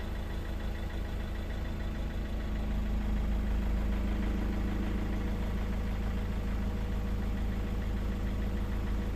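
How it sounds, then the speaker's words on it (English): A 2010 Ford Galaxy 2.0 TDCi diesel with an intermittent cutting-out fault idles steadily, a continuous close, low rumbling drone with a faint knocking texture and no other sounds. "When you start the engine, a few seconds later you feel the engine kind of"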